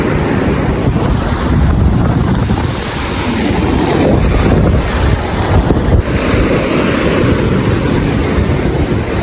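Surf breaking steadily on a beach beside a seaside temple in Thambiluvil, heard as a loud, continuous wash of waves mixed with strong wind buffeting the microphone, with no voices.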